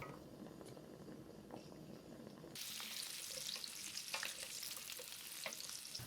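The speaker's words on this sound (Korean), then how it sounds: "팬에 식용유를 두르고 불을 켠 다음 헹군 알감자를 넣고 볶아줍니다." Rinsed baby potatoes stir-fry in cooking oil in a pan, a soft steady sizzle that jumps louder partway through as they are tossed, with light scraping and bubbling close by.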